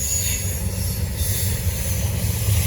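A BNSF freight train rolls past on a Norfolk Southern line near Gaffney, South Carolina, a loud, steady low rumble of rail cars with faint wheel squeal above it, no talk.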